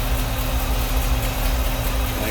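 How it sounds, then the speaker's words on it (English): A 1947 Chevrolet Sedan Delivery engine idles with a steady, low exhaust rumble and constant vibration, close and loud throughout with no talking over it. "Nice little rumble out of that exhaust."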